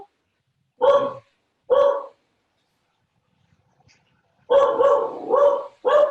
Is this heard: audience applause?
no